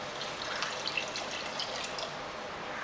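Water poured from a glass into a pan on high flame for a bhindi masala gravy, a steady splashing trickle lasting a few seconds.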